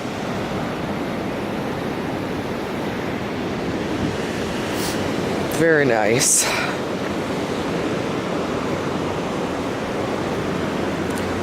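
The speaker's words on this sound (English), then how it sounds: "here's a view of Daytona Beach. You can see all the waves." Ocean waves rolling onto Daytona Beach form a steady, wide wash of surf heard from a distance. A short voice comes in around the middle, and a brief squeaky mechanical sound rises over the surf at the same point.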